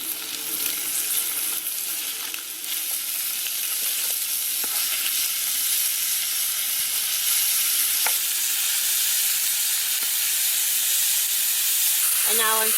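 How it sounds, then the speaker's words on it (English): A steady, loud sizzle of mince and onion frying in a hot pan at a woodland campsite, continuous throughout with occasional faint stirring clicks. "And now I'm frying the mince and the onion until they've gone brown"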